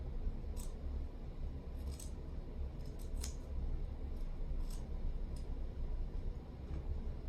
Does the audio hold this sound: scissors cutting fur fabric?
yes